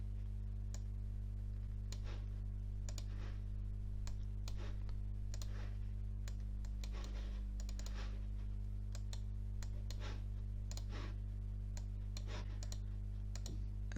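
Computer mouse clicks while formatting text, sharp, quiet single and double clicks spaced irregularly over a steady low electrical hum, close to the microphone, with no one speaking.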